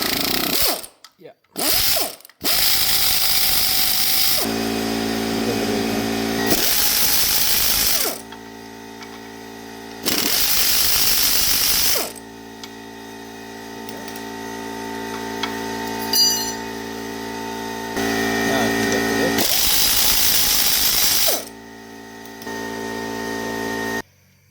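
A ratchet wrench clicks in quick, repeated bursts while loosening parts on a 2016 Subaru WRX turbo engine, each spell of rapid pawl ticking close and loud, separated by short pauses and faint workshop noise.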